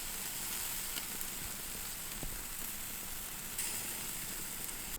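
Tandoori chicken grills at an outdoor Pakistani BBQ, giving a steady close sizzle and hiss throughout with faint crackles and no talking.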